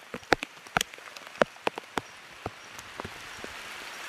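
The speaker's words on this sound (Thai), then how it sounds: "ตอนนี้ก็ฝนตกเด้อจ้ะ" Steady rainfall in a forest, with a soft continuous wash under scattered, irregular drops landing close by, loudest early and thinning toward the end.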